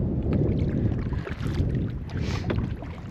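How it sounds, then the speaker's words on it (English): Wind gusting across a non-motorized lake in Northern Wisconsin during an afternoon kayak outing, a steady close rumble of wind buffeting the microphone with faint water movement, no talking. "it is windy."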